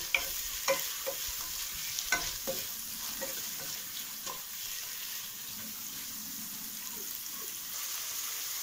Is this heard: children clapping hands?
no